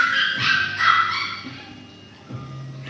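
A litter of male Morkie puppies, a Maltese and Yorkie cross, yip and bark in short high bursts close by, with small whimpers between the barks and no talking.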